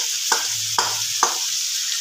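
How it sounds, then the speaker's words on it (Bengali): Chicken frying in a pan for a dhaba-style egg chicken tadka is stirred in three distinct scraping strokes, close up, over a steady sizzle, with no talking. "এবার চিকেনটা আবার একটু নেড়ে দিলাম।"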